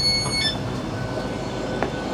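A GWR train pulls into a station on the Pembroke Dock service, rumbling steadily with a low rolling drone and faint high squeals from the wheels; no voices, continuous mechanical noise throughout.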